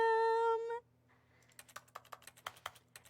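Keys on a computer keyboard are pressed in a quick, irregular run of clicks, close and clear, after a brief sustained electronic tone from a game.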